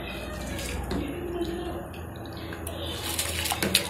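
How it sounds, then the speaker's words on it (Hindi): Rice being added to a pot of vigorously boiling water for Hyderabadi mutton biryani, a continuous bubbling, splashing water sound with small clinks and rattles, close up and steady. "अभी आप देख सकते हैं अभी बहुत अच्छा उबाल आ रहा है, तो हम चावल डाल रहे हैं इसके अंदर।"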